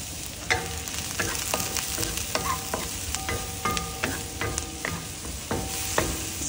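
Onion sizzles and fries in a pan while a spatula stirs it with repeated scraping knocks against the metal, a steady crackling hiss underneath the rhythmic taps.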